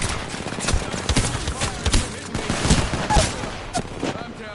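Rapid bursts of gunfire in the battle royale shooter Apex Legends, sharp repeated cracks at close range over a busy background, with a voice speaking over the shots.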